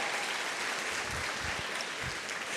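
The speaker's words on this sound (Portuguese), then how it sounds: "Aplauda mais uma vez o nome de Jesus" A church congregation applauds in a dense, even burst of clapping, fairly quiet and distant, with no talking over it.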